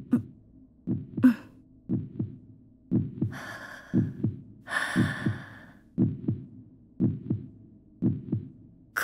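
A slow, steady heartbeat thumps in regular double beats, close and prominent, with soft breathing and sighs between the beats.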